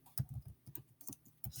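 A search term typed on a computer keyboard, with close, quiet key clicks in short irregular bursts and brief pauses between them.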